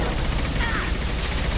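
Gunfire in Mass Effect 2, a dense continuous volley of rapid shots, loud and close.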